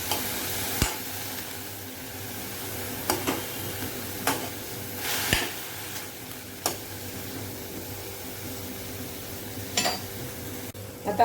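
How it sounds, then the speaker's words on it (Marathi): Finely chopped coriander sautés in oil with a soft, steady sizzle, punctuated by sharp scrapes and clinks of a spoon against the pan. "कोथिंबीर तेलामध्ये चांगली परतून घ्यायची."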